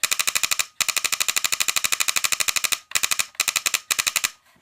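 A BT TM7 paintball marker fires in full auto, loud rapid bursts of evenly spaced shots broken by short pauses, close and alone with no talking.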